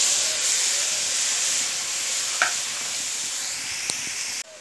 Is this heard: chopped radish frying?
yes